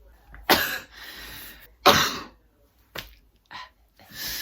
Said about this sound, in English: The cough is like such a short, sharp cough.